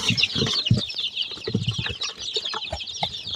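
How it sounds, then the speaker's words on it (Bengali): More chicken chicks on a rural Bengali farm give a busy stream of shrill peeps mixed with low clucking, close by and fairly loud. "আরও কিছু মুরগির বাচ্চা আছে"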